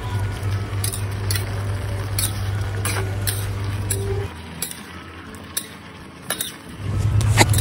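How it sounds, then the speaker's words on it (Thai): Mixed vegetables with cherry tomatoes being stir-fried in a pan, with repeated sharp spatula scrapes and clinks against the metal over a steady low hum, which drops away briefly midway and then returns. "สุดท้ายใส่มะเขือเทศราชินีลงไปผัดให้เข้ากันค่ะ"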